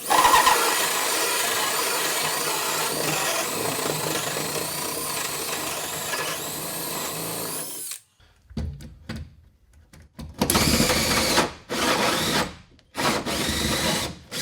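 A power drill drives into wood in the cramped cabinet space under a bathroom vanity sink during drain installation. It whirs loudly and steadily for several seconds, then stops, followed by a few shorter close bursts with pauses between.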